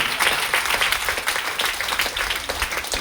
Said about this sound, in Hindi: एक बार जबरदस्त ताली है करना चाहिए।